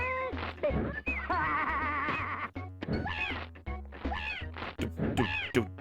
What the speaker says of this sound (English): Shut up, you stupid cat.